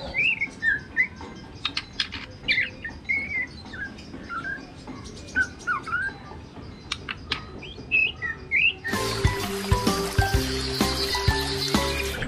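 Bright, repeated chirps and short warbling calls from a young magpie robin, fairly close, over a soft insect-like background, ending in a burst of busier, denser twittering.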